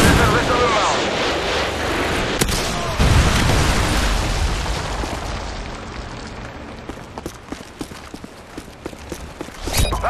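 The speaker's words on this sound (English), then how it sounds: "Friendly predator missile" Loud, rumbling explosions from a predator missile strike in a Search and Destroy video game match fill the opening seconds, then fade into scattered gunfire and game noise under indistinct voices.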